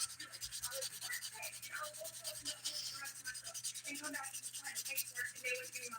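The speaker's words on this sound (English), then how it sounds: "I'm gonna go through and quickly buff these" Quiet, rapid scratchy rubbing of a 100/180 grit sponge buffer over nails, a steady close-up scuffing under a faint background hum.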